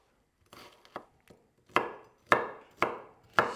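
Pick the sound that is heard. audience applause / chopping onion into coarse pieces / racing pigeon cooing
chopping onion into coarse pieces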